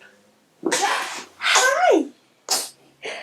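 Several quick sneezes burst out close by, one after another, separated by short pauses, with a brief spoken word among them.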